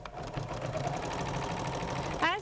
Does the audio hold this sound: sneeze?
no